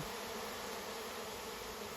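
A dense, steady buzzing of many honeybees fills the air continuously, a constant droning swarm with no voices.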